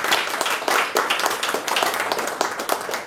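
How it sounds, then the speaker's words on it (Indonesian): A church congregation cheers and claps for God in a sustained, dense burst of applause, close and loud throughout with no pauses. "Berikan sorak-sorai buat Tuhan."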